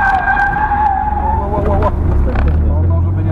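A loud car engine roars and revs continuously during a drift figure-eight, with a tire squeal rising and falling over the top as the vehicle slides.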